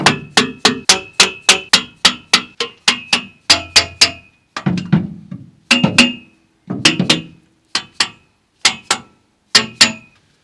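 A hammer taps metal on a classic Ford Mustang engine in quick, steady strikes, pausing briefly, then resuming in slower, evenly spaced hits, sharp and close.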